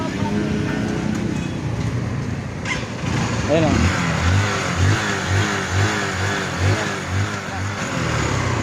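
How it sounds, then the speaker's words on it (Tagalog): A motorcycle engine, hot and needing a tune-up, idles and runs steadily nearby, its low putter pulsing rhythmically while someone speaks briefly over it. "Mainit na mainit na yung makina wala lang ingay"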